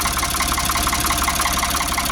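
A diesel engine idles close and loud in a steady even rhythm after its injector pump was checked, with a fuel blockage in the tank suspected.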